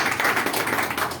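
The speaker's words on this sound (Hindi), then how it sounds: "जोरदार तालियां की है।" A crowd breaks into loud, sustained applause at a health product motivational seminar, dense clapping filling the whole moment without pause.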